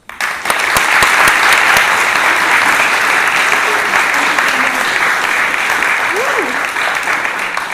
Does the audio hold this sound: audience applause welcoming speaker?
yes